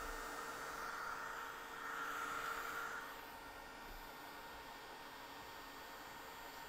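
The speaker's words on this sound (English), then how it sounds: "This is a craft, a Ranger heated tool. It is an embossing gun or an embossing tool." A Ranger heated embossing gun craft tool blows with a steady airy whoosh, slightly louder for the first three seconds and then settling into an even, constant hiss.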